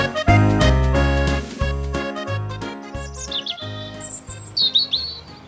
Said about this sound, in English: The sun was shining and the birds were singing happily.